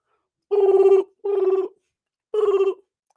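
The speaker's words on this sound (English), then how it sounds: "I'm about to call you. Pick up your phone." A telephone ringing, three clear warbling trilled rings, two close together and then a third after a short pause, loud and close with silence between them and no talking.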